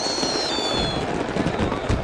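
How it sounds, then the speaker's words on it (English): A barrage of fireworks bursts at the Rio Carnaval parade as Mangueira enters the Sambadrome, a loud dense rattle of crackling explosions packed tightly over a roaring crowd. "A barrage of fireworks is Mangueira's cue to enter the Sambadrome."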